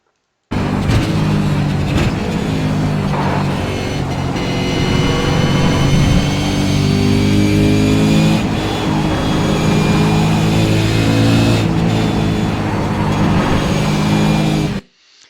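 A race car engine roars loud and close, running continuously as its pitch rises and falls through a downshift into fourth gear, with no talk over it.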